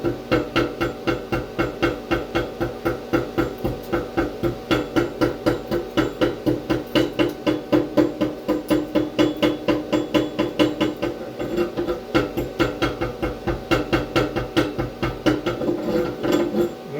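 A MIG (GMAW) welding arc lays a bead, giving a steady, loud, close-up crackle with a rapid, even buzzing pulse that runs continuously with no pauses.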